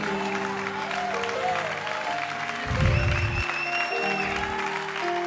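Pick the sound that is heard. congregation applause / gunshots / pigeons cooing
congregation applause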